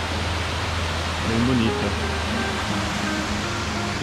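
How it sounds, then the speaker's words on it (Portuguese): The Rio Cascata waterfall beside the Estrada da Graciosa in Paraná produces a dense, steady rush of falling water, loud and close, while a person speaks briefly over it. "é uma cascata que tem bem no comecinho aqui da Estrada da Graciosa,"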